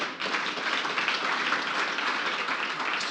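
Audience applause at a business talk on growth and entrepreneurship: a dense, steady wash of clapping fills the room for about three seconds, moderately loud and without speech.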